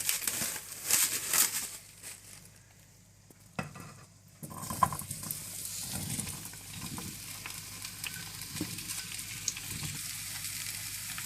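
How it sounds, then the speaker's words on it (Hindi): Potatoes lightly frying in oil for keema aloo, a steady crackling sizzle with occasional stirring scrapes and utensil knocks, close and continuous. "तेल डालें और इसमें आप हल्के से आलू फ्राई कर लें।"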